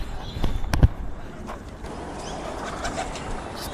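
A racing pigeon arrives at its loft, with a few soft coos and sharp flutters near the start and then low background noise. Faint speech can be heard in the background.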